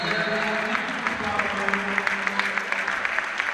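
At a basketball game between Basket Lecco and Aurora Desio, a crowd claps steadily as a departing player leaves the court, with quick irregular claps heard under a commentator's voice.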